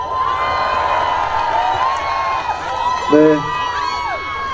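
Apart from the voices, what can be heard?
audience applause and cheering at outdoor concert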